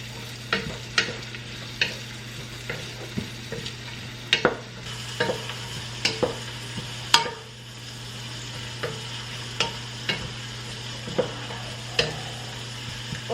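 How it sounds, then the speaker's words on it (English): Food frying in bacon grease hisses steadily while a spoon stirs it, with repeated sharp scraping clacks against the pan every second or so, close up and with no talk. "I'm going to stir that up and cook that in this bacon grease."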